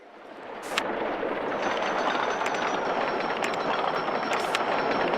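Roller coaster trains run on a track in the RollerCoaster Tycoon video game, a steady loud rumbling roar with a faint repeated clatter and a few sharp ticks, with no voices.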